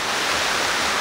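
Steady rushing of a creek in the mountains at dusk, a dense, continuous wash of flowing water filling the whole moment with no breaks or voices.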